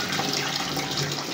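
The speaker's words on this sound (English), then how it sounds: "The water is flowing in" Water rushing steadily into a leaking toilet cistern as it refills, a constant close hiss and gurgle with no talk.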